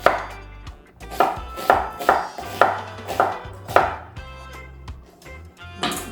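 Knife chopping food on a cutting board for keto Mediterranean black beans: steady rhythmic thuds, about a dozen crisp close strikes in uneven bursts, with no talk.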